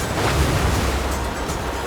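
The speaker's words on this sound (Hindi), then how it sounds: "उस आंधी को देखो।" Stormy wind and surf on an island, a loud continuous roar of gusting wind and crashing waves buffeting the microphone, with no voices.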